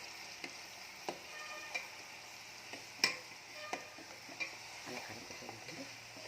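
Garlic and asafoetida frying in oil while being stirred, a faint steady sizzle broken by about ten sharp scraping taps of a spoon against the pan, evenly spaced and close by.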